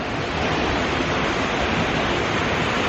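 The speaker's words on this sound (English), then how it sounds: "There's a waterfall right there" Steady, dense roar of a coastal-range creek waterfall with lots of water pouring over it, a constant broadband rush with no pauses, close and fairly loud, no voices.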